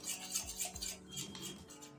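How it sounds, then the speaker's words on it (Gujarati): Soft clinking of a spoon against a bowl as dry spices, including red chilli powder, are stirred for stuffed chilli fritters, several quick scraping taps close by, quiet and without talking. "હવે બધો મસાલો આપણે પહેલાં મિક્સ કરી લઈશું"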